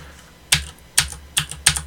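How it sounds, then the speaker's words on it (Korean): Four crisp, separate keystrokes on a computer keyboard while typing in the vim editor, close and clear, evenly spaced at a slow, deliberate pace with near silence between them. "제가 막 타이핑 아무거나 해볼게요."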